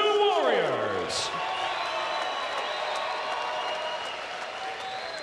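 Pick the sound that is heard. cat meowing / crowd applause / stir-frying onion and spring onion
crowd applause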